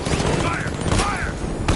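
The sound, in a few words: gunfire in Batman: Arkham Knight video game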